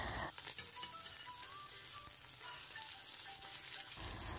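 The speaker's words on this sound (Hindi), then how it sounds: "बहुत ही आराम से इसको फ्राई करना है।" Fish fries on a flat tawa, a quiet, continuous crackling sizzle with faint tonal squeaks running through it and no voices.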